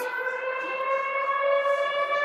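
A civil-defense air raid siren wails steadily at a sustained pitch in the West Bank after midnight, loud and continuous, with no voices.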